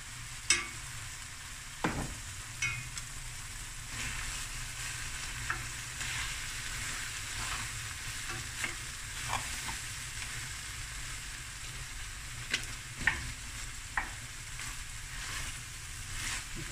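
Crayfish fry in a pan with a steady broadband sizzle while being stirred, with scattered clicks and scrapes of the utensil against the pan close by and no voices.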